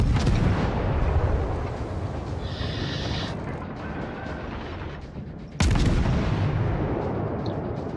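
Heavy naval cannon fire in World of Warships, a continuous roar of big-gun salvos and rumbling blasts, loud and close, with a sudden fresh broadside near the end and no talking.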